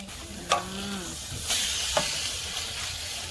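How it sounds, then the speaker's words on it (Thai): Quiet, steady sizzling hiss of water spinach stir-frying in a pan, with a few soft clanks and scrapes of stirring. "ผัดให้ผักบุ้งหลุดลงไปก่อน"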